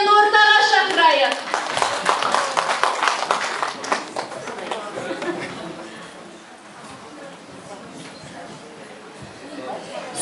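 An audience at a Kazakh performance contest breaks into applause right after a voice, with dense clapping that gradually thins and fades toward the end.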